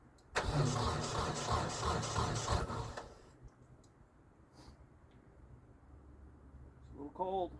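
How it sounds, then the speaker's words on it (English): A tractor engine cranks and fires up loudly for about three seconds, then settles into a quieter low idle, ready to run a buzzsaw through the PTO on a cold day; a voice speaks briefly near the end. "I'll get the tractor fired up"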